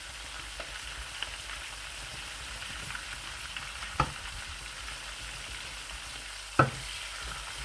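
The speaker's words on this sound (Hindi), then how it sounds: "लहसुन को पकाने के बाद मैं ज़ीरा ऐड करूँगा ताकि ज़ीरा भी थोड़ा सा भून लिया जाए।" Cumin seeds frying with garlic in hot oil in a pan while cooking desi chicken, a soft steady sizzle with two brief metallic clinks of a utensil.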